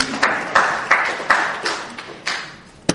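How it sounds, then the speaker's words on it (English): A small lecture audience gives a brief, sparse round of applause, with a handful of separate claps and taps spaced out over a few seconds rather than a sustained ovation. "A little bit of applause"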